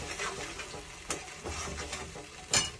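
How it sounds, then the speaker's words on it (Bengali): Mustard paste fries in a pan over a high flame, giving a continuous crackling sizzle with a few sharp spatter bursts, close and fairly loud with no one talking. "ফ্লেমটাকে হাই করে দিলাম করে দিয়ে সর্ষে বাটাটাকে ভালো করে ভেজে নেবো"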